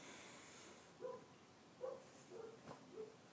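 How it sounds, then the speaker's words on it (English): A dog gives four short, faint yipping barks spaced about a second apart, heard from a distance in a quiet setting. "If you hear somebody barking, it's our dog."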